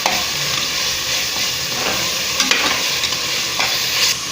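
Onions and green chillies sauté in a pan for green field bean biryani, giving a continuous loud sizzle with occasional scrapes and clinks from a stirring spoon; no speech.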